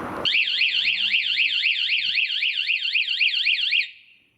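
A loud Honda CBR 150 motorcycle anti-theft alarm siren wails in a fast rising-and-falling warble for about three and a half seconds, then cuts off, with no voices.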